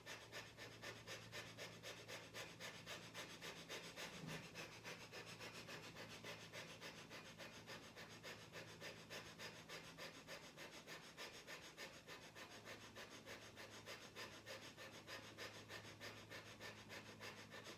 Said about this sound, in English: Spine is tall, seated, and begin breath of fire.